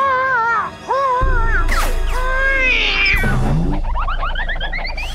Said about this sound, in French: Maudit chat, à nous deux maintenant, Martin